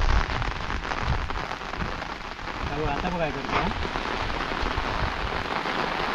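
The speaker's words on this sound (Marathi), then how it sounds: "पावसाचा आवाज बघ" Steady rain pours onto a surface close by, a dense continuous hiss throughout, with a voice talking briefly over it partway through.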